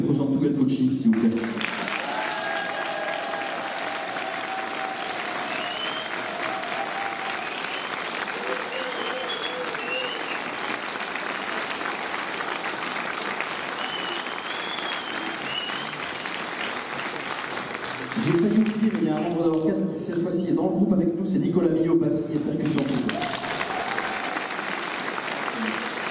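Concert audience applauding an orchestra, dense sustained clapping filling the hall for most of the stretch, with a voice speaking at the start and again near the end.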